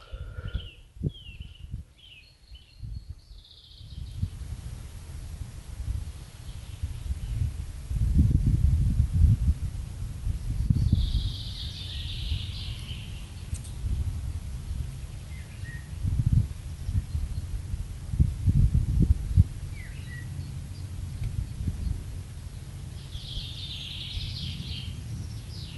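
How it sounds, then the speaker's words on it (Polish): Forest birds sing faintly and intermittently on a mountain trail in the Opawskie Mountains, sparse high chirps over a low rumble of wind and rustling, with no talking. "Śpiew ptaków."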